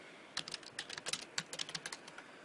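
Rapid, light clicks of a computer keyboard as a username is typed, a quick uneven burst of keystrokes close by and fairly quiet, with no voices.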